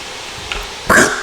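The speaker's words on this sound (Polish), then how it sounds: "on chyba psa, psa przyzwał" A summoned dog barks in a video game, a single sharp bark near the end over a faint steady background hum.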